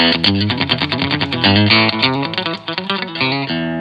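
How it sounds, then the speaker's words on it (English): Fast, bright electric guitar country licks with twangy, effected tone, a quick run of notes played close and loud with no talking. "if you turn around and you're playing a fast country song"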